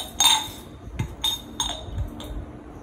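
Lids from a container set clinking together, several short bright clinks and light taps spaced across a few seconds, close and clear with no talk.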